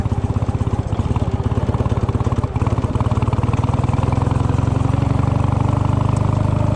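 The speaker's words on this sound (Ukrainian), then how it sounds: "Щоб він у нас завівся, запустився і ми поїхали." A boat's outboard engine on the Dnieper runs steadily at close range, a loud, even rhythmic putter that holds throughout, with no voices over it.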